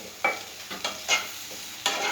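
Food fries in a pan with a soft background sizzle, broken by five or six sharp scraping stirs of a spoon against the pan at irregular intervals, close and fairly quiet.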